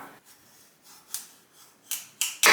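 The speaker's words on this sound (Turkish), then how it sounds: "Ahşap kesme tahtasında balkabağın sapını yani şu kısmını keseceğim." Knife cutting through the hard stem of a pumpkin on a wooden cutting board: a few short, crisp cutting and scraping strokes, faint at first, then sharper snaps near the end, close and alone.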